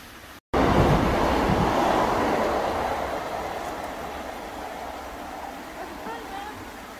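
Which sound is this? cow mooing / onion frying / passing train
passing train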